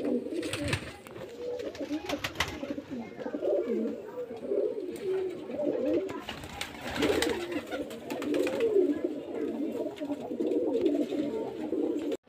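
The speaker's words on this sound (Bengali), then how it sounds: "এই যে একটা বেলে সবুজ পায়রা" Desi Giribaz pigeons coo in low, soft repeated rolling calls at close range, several birds overlapping continuously, with faint background noise and occasional clatter.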